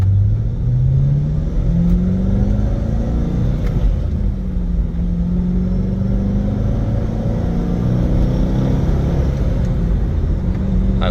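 A 2003 Chevrolet Corvette Z06 hardtop's engine rumbles and pulls through rising revs on a test drive, with steady loud low drone and repeated climbing pitch sweeps between shifts, no talk over it.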